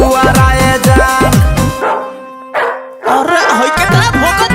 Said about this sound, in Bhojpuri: अरे होई केतना भोकता कुकुर एकदम हंसका रे